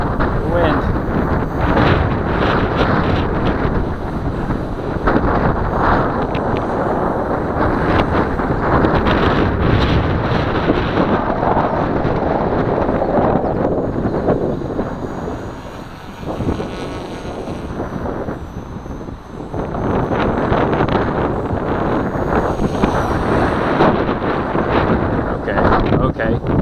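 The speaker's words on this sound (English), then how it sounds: "Oh man, the wind." Strong outdoor wind buffets the microphone in a steady, loud roar for most of the time, easing briefly midway before surging again, with someone talking intermittently underneath.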